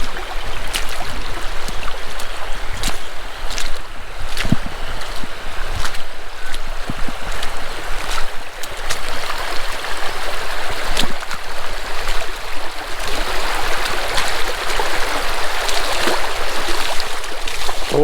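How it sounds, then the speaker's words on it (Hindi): A river in dense forest rushes steadily throughout, a broad even wash of sound with occasional small splashes and no talking. "ये है घने जंगलों के बीच में बहती नदी"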